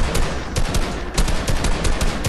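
Rapid gunfire in Fortnite, with repeated sharp shots in quick bursts and short gaps between them, loud and close with no talking over them.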